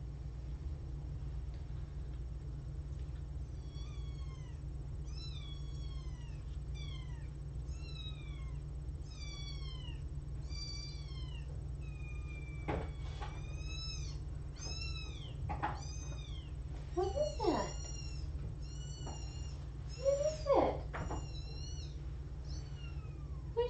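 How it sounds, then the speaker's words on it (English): Kittens crying and meowing from a recording played back, a rapid series of high, rising mews repeating steadily, growing louder and more strained toward the end over a low background hum. "I'm gonna try the thing where I find a kitten meowing video and see what she thinks of it"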